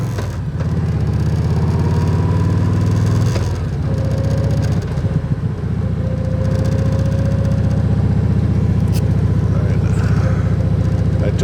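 A car rolls along a rural Rustic Road in Wisconsin, its engine a loud, steady drone with a low hum and a brief dip partway through, heard from inside the vehicle.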